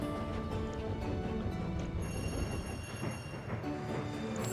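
Game train from Tiny Rails rolling steadily along its track near Nashville, a continuous mechanical rumble with rhythmic clatter, moderately loud and running for the whole stretch without pause.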